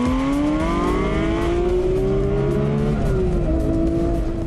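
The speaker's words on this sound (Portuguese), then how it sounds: "barulho dos 6 cilindros aspirado realmente traz uma nostalgia muito grande" The naturally aspirated six-cylinder engine of a red car accelerates close by, a loud, smooth and steadily rising note that shifts pitch partway through, with no voices.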